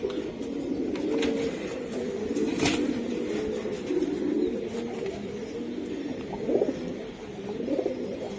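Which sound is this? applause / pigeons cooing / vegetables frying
pigeons cooing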